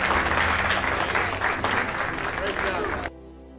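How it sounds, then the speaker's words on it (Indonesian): FBI agents cheer and applaud in an office in a Prison Break scene, a loud sustained burst of clapping and crowd noise that cuts off abruptly near the end. "Di kantor FBI, semua agen sorak-sorai karena Lincoln sudah tertangkap."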